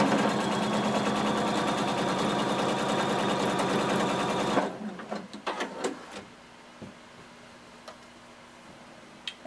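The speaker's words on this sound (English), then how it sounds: "I'm going to stitch to meet that other stitching line" A sewing machine runs a steady, rapid stitch along a jumpsuit seam, loud and continuous for several seconds, then stops, leaving a few faint clicks and handling sounds.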